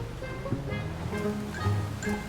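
A car in the GTA 5 video game drives into a river, and water rushes and churns continuously alongside faint tonal engine hums and scattered splashy bursts.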